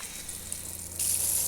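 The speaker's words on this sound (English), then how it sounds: "the first thing I'm going to do is the outside shower" Water runs from an RV's outside shower, a steady hiss that grows louder and brighter partway through as the flow opens up.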